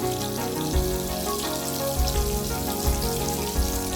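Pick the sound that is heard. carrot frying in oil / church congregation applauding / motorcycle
carrot frying in oil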